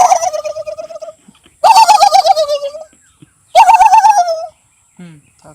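A man imitates the call of a pet turkey in village Bengal, producing three bursts of rapid warbling gobbles separated by short pauses, loud and close, ending with a brief faint trailing note.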